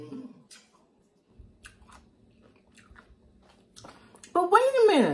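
Crunchy bites and wet chewing of homemade curtido, a tangy fermented cabbage slaw, close to the mic in short bursts between quiet gaps, with a voice speaking over the end.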